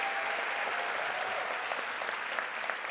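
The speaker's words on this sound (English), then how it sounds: "Give them a round of applause as well." Sustained applause from a conference audience at a social work gathering, a steady dense clatter of many hands filling the room at moderate loudness, with no voices standing out.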